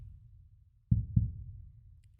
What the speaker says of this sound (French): les battements de cœur constants vous accompagneront